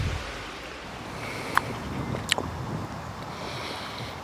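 Strong wind blows across a garden allotment plot in late October, giving a steady buffeting rush over the microphone with two sharp clicks partway through.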